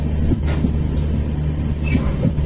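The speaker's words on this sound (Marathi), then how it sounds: "अजून पण आपण ट्रेनमध्येच आहे" Steady low rumble of a passenger train running from Dadar toward Ekta Nagar in Gujarat, heard from inside the carriage, with faint rail clatter and continuous engine drone throughout.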